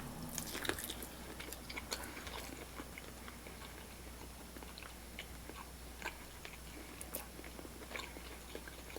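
Someone chewing unseasoned oven-roasted Little Caesars chicken wings, with faint close crunchy bites and wet mastication running steadily under a low room hiss, no talk.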